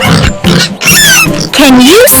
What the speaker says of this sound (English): How a pig says hello.